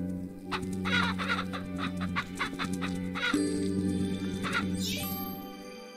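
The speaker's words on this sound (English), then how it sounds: "Ugh, chickens." Chickens cluck in the Bee Simulator video game: a run of clucks and squawks repeats over steady game music, with a rising squawk near the end.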